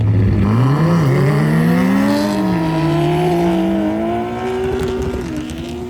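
An Audi S3 and a Mitsubishi Evo 6 drag racing up a ski slope, engines revving hard and loud with rising pitch through gear changes, sustained and close.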